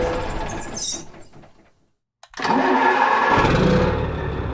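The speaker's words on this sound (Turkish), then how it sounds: "Bu arada şu aracın kontak basma sesi çok hoşuma gidiyor bakın" A Mitsubishi FE 449 truck in Euro Truck Simulator 2 is shut off, falls silent briefly, then its ignition clicks and the engine cranks and catches, settling into a loud, steady, close idle.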